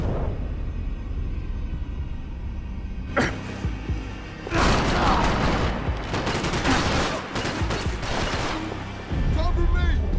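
Gunfire rattles in Max Payne 3, with dense automatic bursts and shots close by, mixed with game voices calling out over the shooting.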